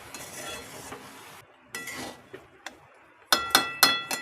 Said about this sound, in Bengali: এবার এটাকে অনবরত নাড়তে হবে, নাহলে তলায় লেগে যাবে।